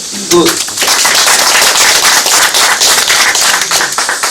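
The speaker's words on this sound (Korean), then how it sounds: "우리 권희일 도의사님한테 한번 박수 좀 한번 해주세요." Audience clapping at a meeting of Confucian scholars and descendants of righteous-army fighters with the Jecheon mayor, a dense steady round of claps filling the room, with a brief voice at the start.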